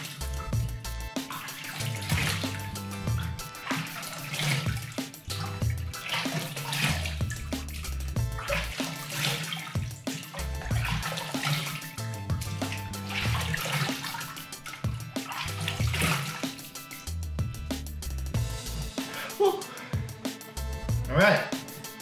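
Tap water running steadily into a sink during face washing after exfoliating, a continuous splashing rush with hand splashes, and a person talking over it at times.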